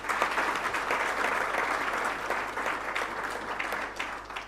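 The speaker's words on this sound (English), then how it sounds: "Can you give them a round of applause?" Sustained audience applause at a ceremony celebrating a university mining engineering partnership, a dense, even roar of many hands clapping, moderately loud and unbroken from start to finish with no talk over it.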